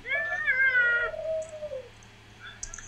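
A person imitates a cat's meow with a clear, drawn-out vocal mew that rises and then slides down, close and fairly loud, followed by a quiet pause and faint clicks.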